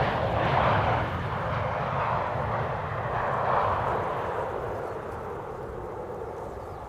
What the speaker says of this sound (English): Delta Airlines Flight 144 arriving from Seattle, Washington.